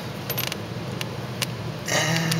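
A Fram oil filter being hand-screwed onto a Jeep gives close, scattered clicks and scraping creaks, with a louder rubbing grind near the end.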